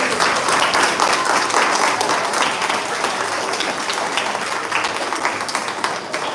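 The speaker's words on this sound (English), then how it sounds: "Let's give them a round of applause, please." A school audience at a primary school spelling competition breaks into loud, sustained applause, dense clapping filling the whole stretch at an even level, with no talk on top.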